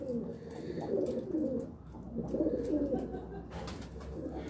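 A pair of large breeder pigeons coo in low, rolling phrases that repeat through the stretch, close and steady over a soft background murmur.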